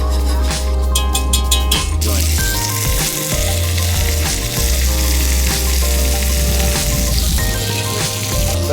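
Roux for seafood gumbo cooking in a pot, a loud continuous sizzle with a spoon scraping and stirring throughout, under a low steady hum of a kitchen fan.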